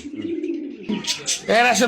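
Selected New Idol pigeons cooing up close in a low, throaty burst, after which people start talking over the birds.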